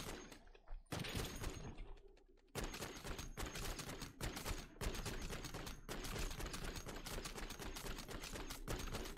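Dense, rapid automatic gunfire from a .50 cal assault rifle in MW3 Zombies, loud sustained bursts broken by brief pauses, with sharp repeated shot transients and no talk.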